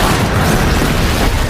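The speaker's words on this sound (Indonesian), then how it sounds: "tempat bahan bakar mereka meledak" A fuel storage site exploding in the 2020 action film Rogue, heard as a loud, sustained roaring boom with dense low rumble that fills the full second and a half without letup.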